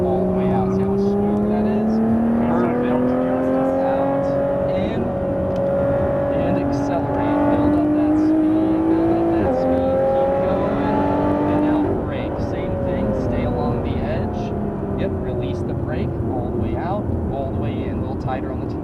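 A Lotus Evora GT accelerates on the Cresson, Texas race track, its engine droning loud and close with rising, falling pitch as it pulls through turns, while a voice talks over it.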